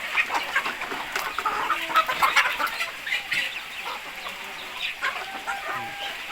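Chickens cluck busily and repeatedly at close range in a coop during light evening rain, with overlapping calls from several birds.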